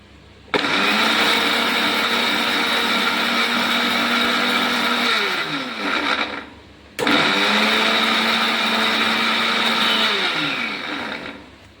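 A mixer grinder blitzes garlic and chilies into idli podi in two loud, steady whirring bursts of about six and five seconds, separated by a brief stop.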